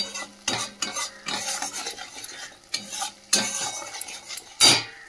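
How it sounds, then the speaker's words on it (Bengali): Salt and turmeric are stirred through in a cooking pan, bringing close metal scrapes and clinks from the utensil over a soft sizzle in quick repeated strokes. No one talks. "একটুখানি নাড়িয়ে নিই নুন হলুদটা"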